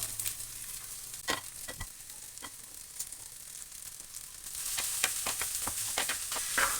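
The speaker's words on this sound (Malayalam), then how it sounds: "പച്ചമണം മാറിയതിന് ശേഷം അതിലേക്ക് നമ്മൾ അരിഞ്ഞു വെച്ചിരിക്കുന്ന സവോള ചേർത്ത് കൊടുക്കുക." Chopped onions sizzle in a pan for a home-style Kerala chicken curry, with scraping stirs and taps of a spoon, and the frying hiss swells louder partway through with no talk.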